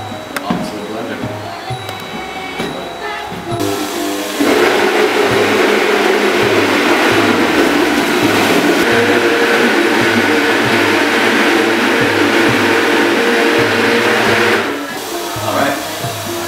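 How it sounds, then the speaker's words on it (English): A blender roars loudly and steadily for about ten seconds, then cuts off, with quieter kitchen clatter before and after. "Alright, on to the blender."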